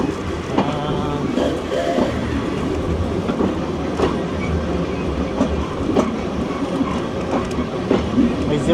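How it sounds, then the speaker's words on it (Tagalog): A train on Brighton's oldest electric railway passes by near the seafront, making a steady, loud rumble with rhythmic clacks from the wheels and faint squeals. Background voices can be heard in places. "Every 15 minutes naman yung dating ng train na to."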